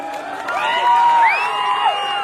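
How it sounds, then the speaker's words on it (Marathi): A crowd at an outdoor wrestling bout in Ratnagiri cheers and whoops loudly, with shouting voices rising and falling over a sustained roar. "या कुस्तीसाठी एकदा जोरदार टाळ्या होऊ दे"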